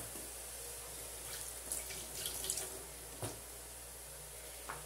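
Water runs steadily into a cooking pot while making canja, a chicken and rice soup, with a constant close hiss and a few faint splashes and no talking.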